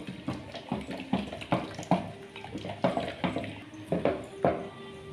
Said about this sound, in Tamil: ஒரு மத்து வச்சு அந்த குக்கர்லேயே அப்படியே லைட்டாக கடைஞ்சா போதும்.